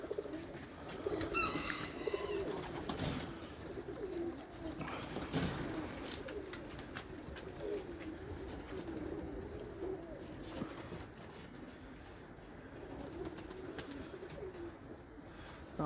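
Pigeons perched high up coo in soft, repeated murmurs through steady outdoor background noise, with a brief flutter of wings partway through.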